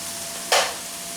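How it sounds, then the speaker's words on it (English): A single short scrape of stirring noodles in a pot for cheesy beefy mac, one brief burst standing out over a quiet background. "after about 2 minutes or so of stirring your noodles"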